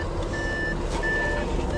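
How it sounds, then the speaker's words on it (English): Door-open warning chime in a 2014 Audi A7 S Line 3.0 TDI, two steady sustained beeps in a row heard over a low engine rumble. "you can see what I mean about that very irritating beeping every time you open the door"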